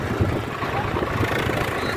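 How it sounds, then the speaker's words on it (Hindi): A Swaraj 744 tractor pulling a loader-filled trolley of roughly 50 to 150 quintals runs at a steady, low engine rumble. The noise is broadband and continuous at moderate level, close by, and no one speaks. "दोस्तों बिल्कुल आराम से आ रहा ट्रैक्टर"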